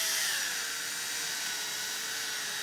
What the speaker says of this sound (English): I find it helps to use a variable speed drill, and you don't want to go too fast.